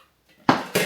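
Pots and pans are handled in a home kitchen: after a quiet moment, two sharp metallic clanks ring out close by, the second following the first within a fraction of a second.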